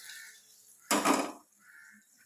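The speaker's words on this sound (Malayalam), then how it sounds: "ഇടിയിൽ ഇച്ചിരിയെടുത്ത് ഇങ്ങോട്ട് കൂടെ ഒഴിക്കുമ്പോൾ ഒന്നും കൂടെ സൗണ്ട് കേൾക്കും" Hot liquid splashes into a pan of tomato curry, raising a loud, broad sizzle that bursts up abruptly and holds about half a second before dying back to a quiet hiss.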